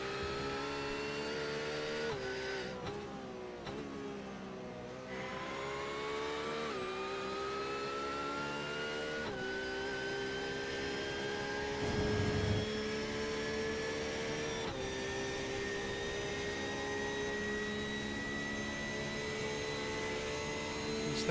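A GT3 Cup race car engine screams around Spa-Francorchamps in a racing video game, heard onboard as a loud, continuous high-revving drone whose pitch climbs steadily, with brief dips at gear changes early on.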